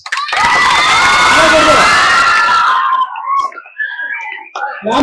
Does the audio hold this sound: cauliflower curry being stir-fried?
no